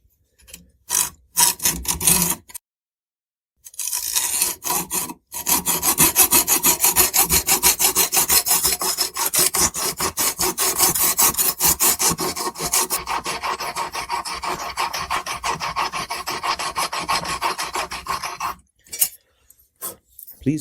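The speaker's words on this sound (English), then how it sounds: "I make sure to hit the center of the screw and start with my hacksaw here." A hacksaw rasps into a stripped screw head in quick, even back-and-forth strokes, close and loud, in a long run with short breaks near the start and end.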